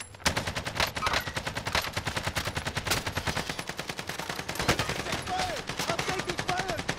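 Sustained automatic gunfire in the Rebirth battle royale game, dense and continuous with overlapping rapid shots and sharper cracks throughout, sounding close and loud with faint whistling tones near the end.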